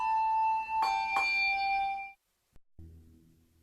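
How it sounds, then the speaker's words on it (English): Traditional handbells ring with clear pure tones, two sharp strikes sounding close together and sustaining a bright shimmering resonance before stopping abruptly, followed by a faint click and a softer, lower tone. "The music made by traditional handbells is timeless."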